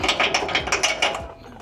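Ratchet wrench clicking in quick, even bursts while loosening a lower control arm bolt on a 2024 Ford F150 Tremor, close and fairly loud with no talking.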